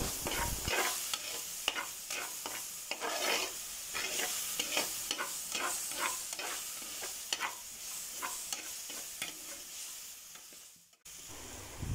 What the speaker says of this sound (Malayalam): ഇതിലേക്ക് നമുക്ക് ഇഞ്ചിയും വെളുത്തുള്ളിയും കൂടെ ചേർത്ത് കൊടുക്കാം. നമുക്കിതൊന്ന് നന്നായിട്ട് വഴറ്റിയെടുക്കാം.